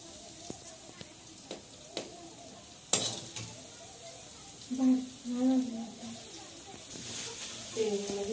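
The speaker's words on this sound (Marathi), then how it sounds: "या ठिकाणी कांदा टाकलेला आहे." Hot oil sizzles and crackles as onion is tossed into a pan of oil with chillies, with a few clinks and stirring sounds and brief talk nearby.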